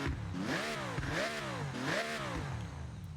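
Three strong rev sweeps from a 7-liter V12 car engine in the Forza Horizon video game, each climbing and dropping back, loud and near with nothing else over them.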